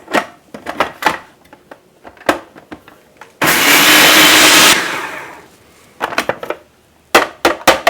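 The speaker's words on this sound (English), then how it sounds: "I'm going to take my 2/3 cup of oats, I'm going to dump it in here, and I'm going to give this a good mix" A kitchen blender grinds two-thirds of a cup of oats into flour in one loud, steady whir lasting over a second, set between scattered clicks and knocks before and after.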